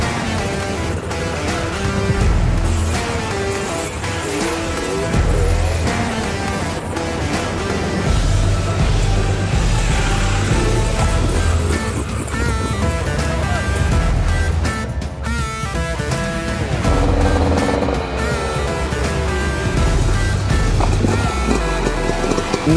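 A motorcycle rides along a road, its engine note droning continuously and shifting in pitch with wind noise over nearly twenty-three seconds, loud and close.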